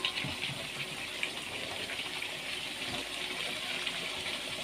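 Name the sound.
pouring hot water into cooking pot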